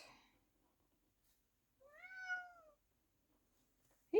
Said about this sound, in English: my kitty is interrupting my video